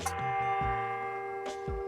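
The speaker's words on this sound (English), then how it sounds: "there's music in the bell that strikes from Trent" Campus bell at the University of Nottingham, Malaysia, rings out with a sustained, humming metallic tone. A few fresh strikes and knocks sound over the lingering ring.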